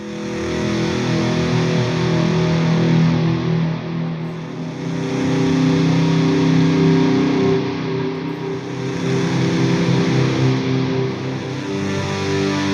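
Heavily distorted electric guitar with the tone knob set around the middle, a saturated, buzzy, aggressive sustained tone ringing in long phrases with slight dips, loud and close, no voices.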